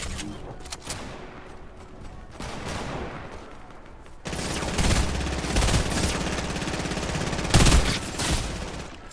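Gunfire rattles through a shooter video game, with a dense volley of shots that grows louder in the second half, plus a few sharp, heavy bangs, and no talk over it.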